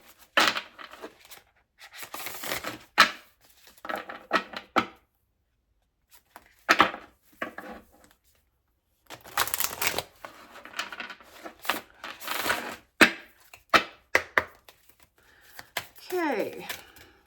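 An oracle card deck is shuffled in quick bursts of riffling and flicking cards, close and fairly soft, with pauses in between and a few spoken words.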